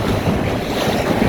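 Strong wind roars steadily over a sailboat running downwind, with rushing water and wave wash underneath and heavy wind buffeting on the microphone throughout, loud and continuous.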